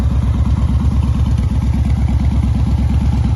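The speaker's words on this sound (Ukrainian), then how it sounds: "Вихлоп просто бомба." A Yamaha XV1900 Raider motorcycle engine idles close by, its exhaust giving a loud, rapid, throbbing rumble that stays steady throughout.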